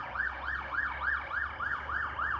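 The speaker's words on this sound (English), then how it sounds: "I'll just let that ambulance pass." An ambulance siren wails in a steady rising-and-falling cycle, about four sweeps a second, moderately distant and heard alone over a low rumble of traffic.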